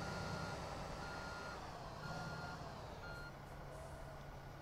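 Steady reversing beeps repeat from a truck in the Construction Simulator 2 video game, holding a continuous, moderately loud electronic tone pattern over a low engine rumble with no talking.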